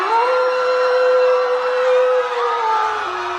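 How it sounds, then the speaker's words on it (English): A long, sustained howl from Santa, portrayed as a clawed, monstrous creature, rising and holding steady for several seconds before dipping at the end, loud and close over a dense, droning background. "Santa howls."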